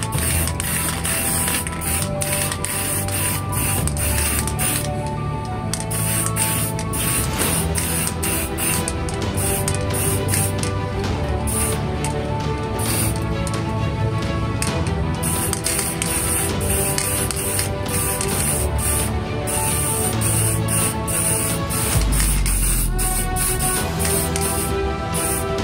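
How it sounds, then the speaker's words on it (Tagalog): Quick spray painting of a car engine lifter part propped on wood, a steady continuous hiss of aerosol or spray gun filling the whole stretch at close range, with faint mechanical noise and no talk. "Mabilisang spray lang tayo."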